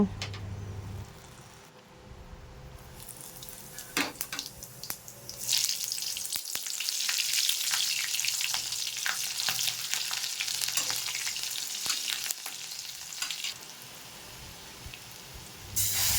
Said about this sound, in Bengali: এই তেলের মধ্যে শুকনো লঙ্কা জিরে আর কাঁচা লঙ্কা দিয়ে ফোড়ন দেব